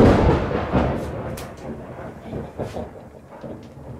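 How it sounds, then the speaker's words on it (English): A close peal of thunder follows a nearby lightning flash during a storm, a loud low rumble at the start that rolls on and slowly fades, with a few sharper cracks along the way. "A flash of lightning quite close by, followed by a peal of thunder and a power cut"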